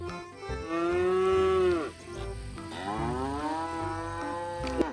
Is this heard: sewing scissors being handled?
no